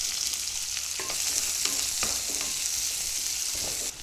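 Onions frying in hot oil with melon seeds, a steady broadband sizzle with occasional stirring clatters, close and continuous for matar paneer.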